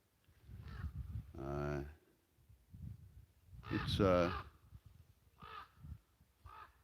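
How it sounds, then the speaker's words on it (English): Deep, hoarse raven croaks ring out at sunrise over a foggy lake, a few calls spaced apart with someone talking between and around them outdoors. "That would be a raven right there."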